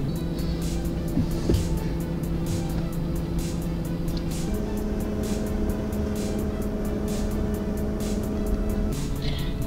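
A large car idles at a Burger King drive-through, a steady low engine hum with tonal harmonics that shift partway through, continuous and fairly close, with no talk over it.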